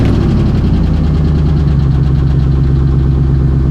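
An old red truck engine runs at a steady idle, a low, rumbling tone with a rhythmic throb holding constant and loud throughout, with no clear start-up crank audible.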